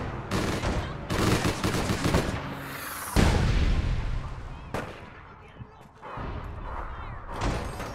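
Gunfire in the online shooter APB Reloaded: repeated bursts of rapid shots and sharp single cracks, fairly loud and close, with a booming hit midway, under occasional voices.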